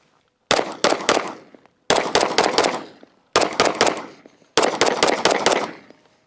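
Sig P320 pistol fired in four quick strings of sharp, loud shots, each string about four or five rounds in rapid succession with short pauses between, no talk.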